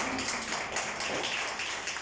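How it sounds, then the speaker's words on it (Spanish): A church congregation claps in praise during a Spanish-language service, a dense and fairly faint patter of many hands that keeps going steadily without pause. "Dale un aplauso al Señor."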